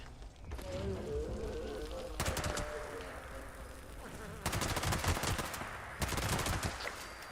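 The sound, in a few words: gunfire in the video game Fallout 76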